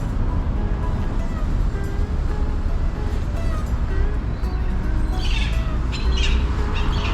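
Bird calls and squawks ring out at the port of Ushuaia, Argentina, over a steady low rumble of engine and water, with a burst of higher chirps toward the end.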